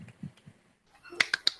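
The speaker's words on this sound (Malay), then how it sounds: "Tepuk tangan untuk Ili." A class of pupils claps briefly for a classmate in a Malay-language lesson, a few sharp, close claps in quick succession after a soft murmur of voices.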